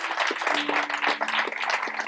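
Church congregation applauding during a sermon, a dense, continuous wash of many hands clapping at moderate distance for about two seconds, with faint tonal hum beneath.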